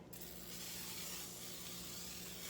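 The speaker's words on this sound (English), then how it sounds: "just spritz it with a little bit of avocado oil." Avocado oil spray spritzed onto a grill gives a steady, continuous hiss lasting a couple of seconds, soft and close, with no talking.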